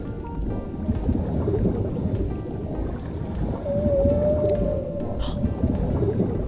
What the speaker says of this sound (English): that's the sound of the baby humpback whale.